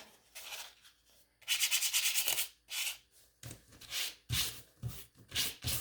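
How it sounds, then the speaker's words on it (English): Painted spring truck parts are gently hand-sanded in short, close, scratchy strokes that come in uneven bursts with brief pauses between them. "But just gently sand these ones so you don't snap them."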